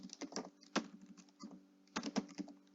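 Computer keyboard typing, a quiet close burst of irregular key clicks, a pause, then another quick cluster of taps, with no talking.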